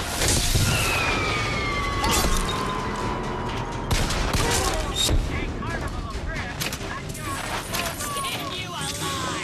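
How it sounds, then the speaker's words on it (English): Gunfire rattles and booms through combat in the video game Bioshock Infinite, with loud shots, whooshes and explosive impacts continuing throughout while a voice talks over the action. "Who is that shooting at me?"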